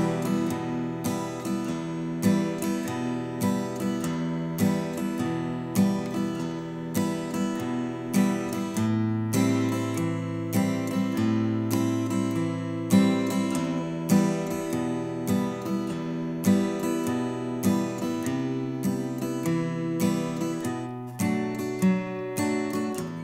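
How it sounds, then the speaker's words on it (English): Minor blues chords picked on a fingerstyle guitar with a pick, alternating between two bass notes in a steady, repeating rhythm of plucked attacks, played solo and close for over twenty seconds. "you can use a guitar pick to play the chords while alternating between 2 different bass notes"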